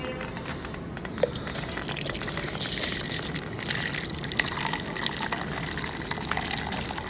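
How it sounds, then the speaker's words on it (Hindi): Boiled water, dyed completely red, poured through a strainer in a homemade winter remedy for parrots, giving a steady trickling, splashing flow that runs close and fairly quiet from start to finish with no talking. "तो इसको हम छान लेते हैं पहले"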